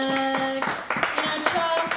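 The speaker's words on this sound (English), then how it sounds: "Clap once more for Chuck." Clapping from a comedy club crowd for a stand-up comedian, sharp separate claps near the mic rising over music with sustained tones in the background.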